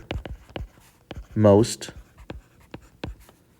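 A pen or marker writes notes by hand, giving short, sharp scratchy strokes in an irregular rhythm, close up, with a brief stretch of speech in the middle.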